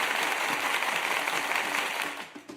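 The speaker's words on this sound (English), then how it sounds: "Get this man a round of applause." A studio crew applauds a guest on a Bears vs Saints pregame show, a dense burst of clapping and cheering that holds steady before tapering off near the end.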